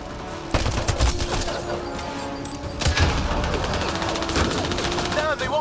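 Automatic weapons fire in a Mass Effect Andromeda firefight, with rapid bursts and sharp booms layered over a chaotic battle din, loud and close, under tense voices.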